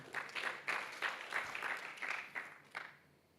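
A church congregation at a GBI Gilgal Manado service claps in a rhythmic, unison beat of about three claps per second, then stops abruptly near the end.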